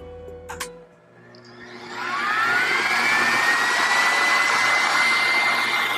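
After a couple of clicks, a centrifugal juicer motor set to high speed spins up into a loud, high-pitched whine that holds steady and close, rising in pitch as it reaches full speed.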